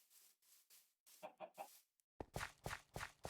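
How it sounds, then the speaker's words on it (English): Several short bursts of Minecraft chicken clucking come in irregular clusters, quiet at first and then louder and busier, with brief silences between. "Some chickens."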